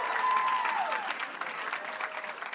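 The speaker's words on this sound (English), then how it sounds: "let's give him a round of applause for his willingness to run" Audience applauding a political candidate at a senate acceptance speech, steady sustained clapping from a crowd that stays fairly even and fills the whole moment.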